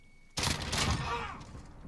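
A loud gunshot bursts out suddenly after a quiet moment in a video game gunfight tournament, followed by a ringing, decaying tail.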